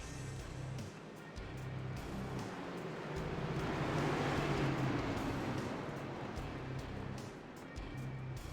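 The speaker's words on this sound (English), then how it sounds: "see these drivers warming up their tires right here, getting ready for this fantastic race" Race cars at Pocono Raceway warming their tires before a Cup Series race, a steady distant engine roar that swells and fades as the pack passes, with no talk.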